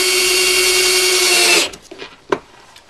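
A power drill whirs steadily for about a second and a half while driving screws into an angled bracket for a bed lift install, then stops, followed by a few clicks and clunks close by.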